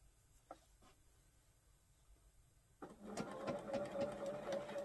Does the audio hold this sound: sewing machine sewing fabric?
yes